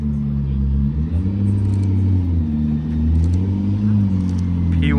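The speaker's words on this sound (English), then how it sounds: "P1 GTR." Loud, close McLaren P1 GTR engine on a public road, a deep rumbling drone that rises and dips in pitch as the revs shift, continuing steadily without pause.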